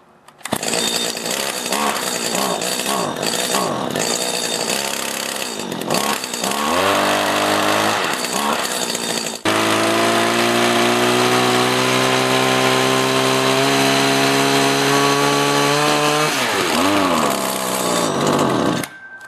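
A small two-stroke grass trimmer engine runs on leftover fuel while being winterized, buzzing loudly with revs that rise and sag unevenly, then settles into a steadier high idle before cutting out near the end.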